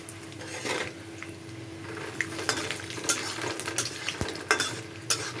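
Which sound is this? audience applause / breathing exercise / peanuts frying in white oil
peanuts frying in white oil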